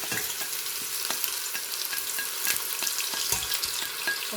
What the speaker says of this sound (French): On fait revenir nos oignons dans l'huile.